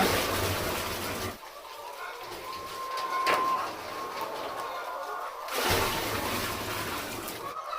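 Water pours into a poultry drinking container in bursts, with a splashing gush, short pauses, then more pouring close by.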